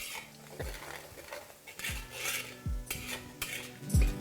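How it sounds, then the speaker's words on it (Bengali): Sliced onions frying in a pan until brown, with a spatula scraping and knocking against the metal several times over a soft background sizzle, close and fairly quiet, no talking. "এবার এটা যতক্ষণ না ব্রাউন হয়ে আসে ততক্ষণ এটাকে এইভাবেই ফ্রাই করে নিন"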